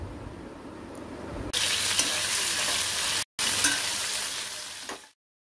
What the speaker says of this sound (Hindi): तो बस इनको फ्राई करते रहेंगे बिल्कुल हाई फ्लेम पर